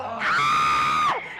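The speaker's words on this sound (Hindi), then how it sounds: "अरे चिल्ला मत" A single loud, sustained high-pitched scream lasting about a second, rising sharply at the start and dropping off at the end, close and alone in a comedy scene.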